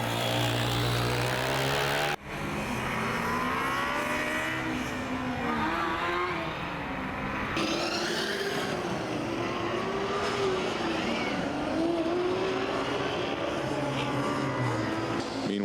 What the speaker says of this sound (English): pretty smooth sounding R6 4-cylinder from Yamaha